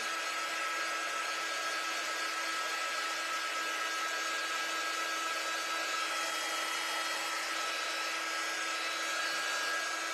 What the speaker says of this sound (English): All right, but first I'm going to dry it.